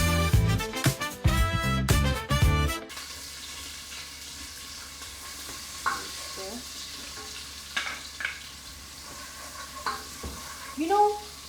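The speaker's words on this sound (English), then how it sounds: "we're going to start frying our sauce." Sauce being fried in a pan, with onion in it: loud clattering bursts at the start, then a quiet background sizzle broken by occasional stirring scrapes and clinks.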